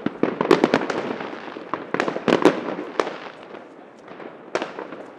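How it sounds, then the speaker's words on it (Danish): Fireworks and firecrackers at a New Year's party burst in quick, sharp cracks and pops, several close together and then scattered, fairly near and loud, with only a little faint voice in the background. "Det var mega fyrværkeri"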